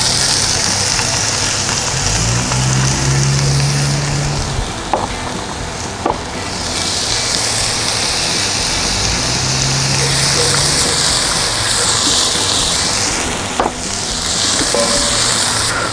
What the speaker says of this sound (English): we're gonna add our onions and garlic